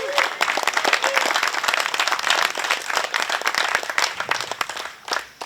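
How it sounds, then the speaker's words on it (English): A crowd applauds at a disc golf hall of fame induction ceremony, with dense, sustained clapping that runs loud and continuous, then thins slightly near the end. "let's give him a big round of applause"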